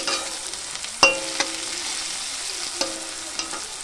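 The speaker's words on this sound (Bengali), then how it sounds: "তো আমার পেঁয়াজ কিন্তু ভাজা হয়ে গেছে হালকা হালকা করে ভালোই" Onions frying in a pan before mustard greens are added, a steady moderate sizzle broken by a few sharp metallic clinks of a spatula.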